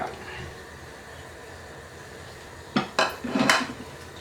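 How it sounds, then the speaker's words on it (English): A utensil scrapes and clinks against a pot while seafood boil sauce is stirred, with a few distinct knocks near the end over a low background hiss. "you just want to mix it in so that it's all around the pot and not just settled in one place"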